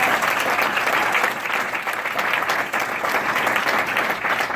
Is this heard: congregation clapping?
yes